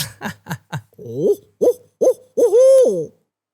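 A man imitates a hoot owl call with his mouth, giving a run of short clipped hoots followed by a longer drawn-out wavering hoot, loud and close with no other sound.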